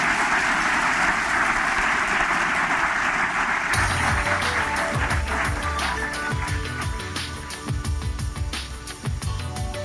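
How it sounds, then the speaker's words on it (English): Audience applause for guests at a University of Alabama in Huntsville climate change event, a full, continuous wash of clapping that shifts midway as music starts and runs beneath the dwindling applause. "Please, a round of applause for our guests."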